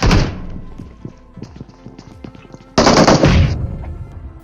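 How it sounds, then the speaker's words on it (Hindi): Loud automatic gunfire in the mobile battle royale game PUBG Mobile (BGMI): a dense burst opens the clip, then scattered lighter shots, then another heavy rapid burst near the end. "अब यह गोली कहाँ से पड़ी कुछ पता नहीं।"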